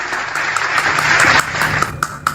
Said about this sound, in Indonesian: Ihu, tepuk tangan dulu yang meriah.